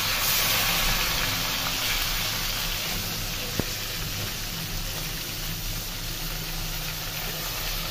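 Fish fry in a pan of oil with a steady, even sizzling hiss that stays moderately loud and constant throughout, with one brief tap partway through.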